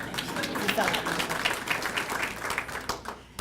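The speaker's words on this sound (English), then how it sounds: "You can clap for that as well" An audience at a Chicago Park District event claps after a presentation, a scattered patter of hands under a voice that keeps talking.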